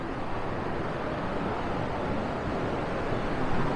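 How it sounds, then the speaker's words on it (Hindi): A river rushes down from a waterfall near Rishikesh, making a steady, dense roar of flowing water that stays even and fairly loud, with some wind noise mixed in. "और अभी आप आवाज़ सुन पा रहे होगे नदी की"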